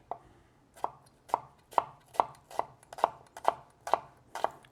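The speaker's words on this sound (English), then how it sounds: "we're just going to chop it up finely." A knife finely chops an onion on a cutting board: ten crisp, evenly paced thuds land about half a second apart, close and clear, with no voices.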